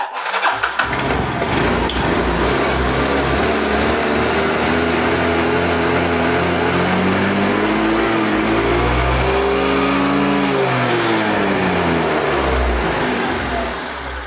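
A Yamaha Fascino 125cc scooter engine starts and runs steadily after a fix for a missing problem, loud and close, with a rev that rises and falls midway before settling back to idle.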